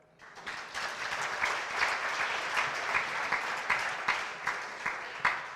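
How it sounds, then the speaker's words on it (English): An audience at an evening sponsor event breaks into applause, rising after a brief quiet start into steady clapping of a mid-sized crowd, with a few sharper individual claps standing out and no talk. "So big round of applause for them."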